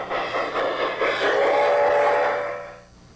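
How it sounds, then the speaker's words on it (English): A steady hiss of released steam swells and then fades out, with a high squeal of brakes running through it, from the digital sound system of an LGB model steam locomotive on a garden railway; loud and close, no talk. "You can hear the brakes squealing, the steam being released, even the fire doors being opened for more coal."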